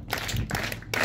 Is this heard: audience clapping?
yes